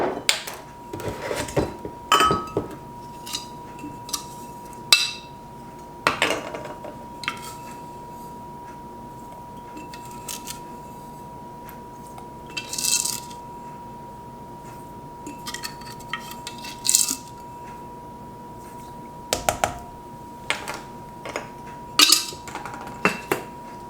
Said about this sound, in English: I'm going to stir that all together and bring it to a boil.